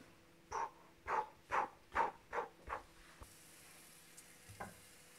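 A wooden spoon stirs food in a heating pan during vegetarian pastilla preparation, giving six rhythmic scraping, sizzling strokes close by, then quieter pan noise with a faint final stir.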